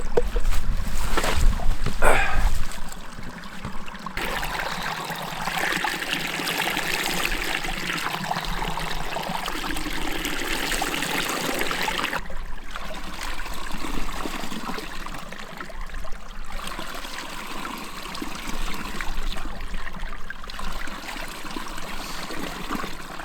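Mountain stream in Sarek National Park, Swedish mountains in autumn, rushing and trickling steadily nearby, a continuous broadband wash of water with brief small splashes near the start and no voices.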